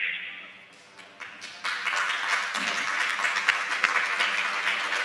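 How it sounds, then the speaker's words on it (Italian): An audience in a hall at an Italian school-and-democracy conference breaks into applause after a faint tone, building within a second into steady, dense clapping that fills the room to the end. "L'applauso dalla sala, professoressa."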